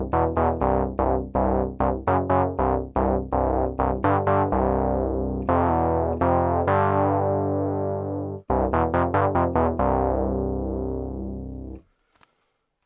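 A Moog Grandmother synthesizer preset patch plays a sequence of sustained notes with rhythmic retriggers and a growling tone, with no attack and a long release; it stops abruptly near the end with no talking.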